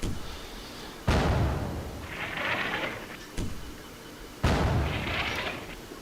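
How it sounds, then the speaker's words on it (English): Artillery rounds from a heavy weapons strike landing on a linear target in the Combat Mission Black Sea war game: two sharp, loud booms several seconds apart, each trailing into a rumbling roll and a hissing decay, with a softer thump between. "We should see the first rounds for the linear target coming down any moment now."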